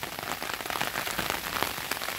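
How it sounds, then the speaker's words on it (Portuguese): Rain falls steadily on a home garden of desert roses in Brazil's Northeast, a dense, even patter of drops on surfaces with no voices. "como tá começando a chover, a gente já trouxe aqui pra parte da frente da casa"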